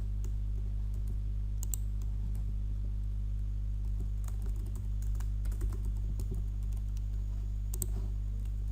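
Computer keyboard being typed on while filling in a Moodle quiz, quiet irregular key clicks in short runs over a steady low electrical hum.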